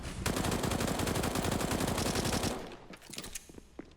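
Rapid SMG automatic fire in a Counter-Strike match, a dense sustained burst for about two and a half seconds, then a few scattered shots and fading action, loud and close.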